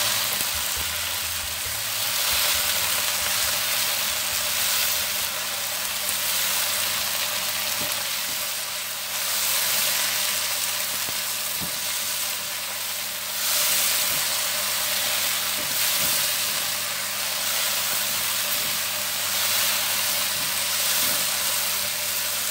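Continuous sizzling as fermented soybean paste is sautéed with a little water in a pan, a steady bright hiss with occasional soft clinks of stirring, no voices.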